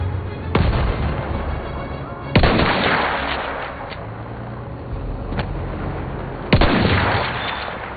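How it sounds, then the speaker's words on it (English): Enemy artillery barrage in the video game Battlefield 1, with four loud booming impacts at uneven intervals, each trailing into a rumbling decay under a steady low background roar. "Wait for the enemy artillery barrage to stop firing."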